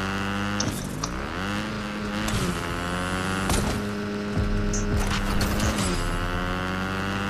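Car driving in Five Nights at Freddy's: Sister Location, a steady engine hum with shifting whirring tones that rise and fall, punctuated by several brief bumps and clatters, close and continuous with no talk.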